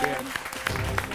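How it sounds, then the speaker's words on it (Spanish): Members of a team on a televised cooking competition clap for the rival team in a studio, a short burst of scattered applause that runs under steady talk. "¿Cómo aplaude el equipo verde también al equipo rojo y a esa devolución?"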